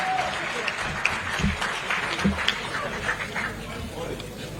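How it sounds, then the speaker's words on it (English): An audience claps for learners at a ceremony, a full, steady round of applause with scattered louder claps and a little laughter and murmuring mixed in. "A big round of applause for the learners."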